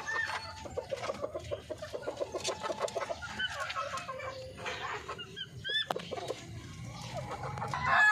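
Chickens in a breeding pen, including future breeders of chocolate Orpington stock, cluck and chatter steadily at close range, with several overlapping birds and occasional sharper calls.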